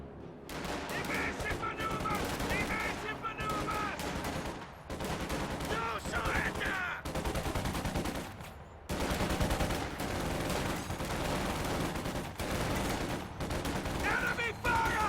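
Gunfire in a real-time strategy game battle between US and other armies, rifles and flamethrowers in play: dense, continuous bursts of shots and rattling fire layered throughout, with brief game voice callouts mixed in.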